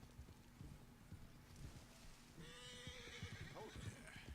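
A horse whinnies loudly midway through, with hooves clip-clopping and shuffling throughout at moderate distance.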